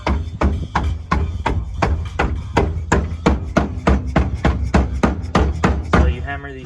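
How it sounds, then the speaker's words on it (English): Sheet metal tabs for car over fenders are hammered up in a steady run of sharp, close metallic strikes, about three per second, sounding alone without talk. "So you hammer these tabs up so it gets all the way up to here"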